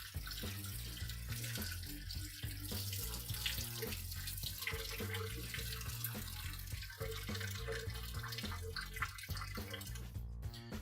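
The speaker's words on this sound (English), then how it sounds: "We'll make sure those get a good rinse, get a good amount of the starch off of them." Sliced potatoes are rinsed under a running kitchen tap to wash off starch, a steady broadband water rush with splashing into a bowl, close and continuous throughout, with music playing underneath and no speech.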